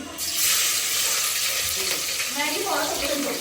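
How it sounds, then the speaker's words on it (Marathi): Chilies hit hot oil in a pan and sizzle with a loud, steady hiss that fills the whole moment close by, with a possible faint voice underneath. "सगळ्यात पहिलं आपल्याला टाकायचं मिरची"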